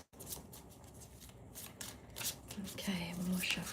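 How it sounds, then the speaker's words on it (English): Tarot cards are shuffled by hand in a close, steady rustle of soft flicks, while a voice murmurs faintly underneath toward the end. "one more shuffle."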